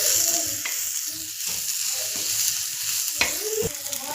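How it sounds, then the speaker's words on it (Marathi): Peanut curry with coriander stirred in a hot pan, a steady close sizzle with scraping strokes of the spoon and a couple of sharper clacks against the pan. "कोथिंबीरसुद्धा छान मिक्स करून घेऊया."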